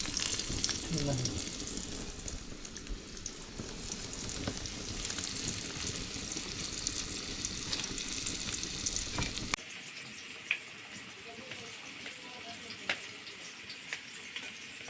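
Coated fish slices, dusted in semolina, sizzle and spit in a frying pan, a steady close crackle that drops abruptly partway through to a quieter, sparser hiss with occasional pops.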